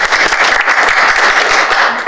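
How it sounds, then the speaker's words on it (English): An audience at a school board meeting gives loud, steady applause for the executive director of transportation, a dense wash of many hands clapping close by without pause. "Gets applause for just showing up"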